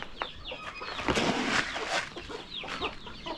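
A broody hen clucks repeatedly in low, throaty bursts close by, with other chickens chattering and squawking around it.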